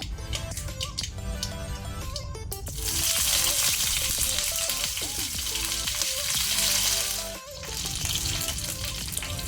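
Loud crackling sizzle as curry leaves hit hot oil over a low flame, the hiss swelling and holding for several seconds over a steady background of music.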